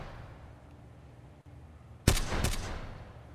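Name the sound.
gunshots in military video game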